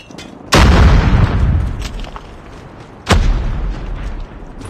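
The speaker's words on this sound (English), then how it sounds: "Grenade out." Two loud, sharp grenade blasts in a Call of Duty Hardpoint match, each a sudden boom that rolls off into a rumbling decay, the second arriving about two and a half seconds after the first.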